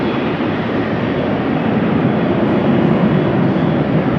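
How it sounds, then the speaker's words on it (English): Lufthansa A320 airliner lining up for takeoff at Amsterdam Schiphol in rainy weather, its engines producing a continuous broad rumbling whine, steady and moderately loud, with no voices over it. "Lufthansa is now lining up, which will be going to Frankfurt"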